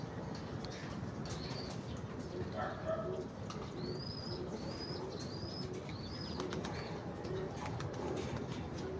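Pigeons coo softly in a steady outdoor hum, with a few faint higher chirps scattered through.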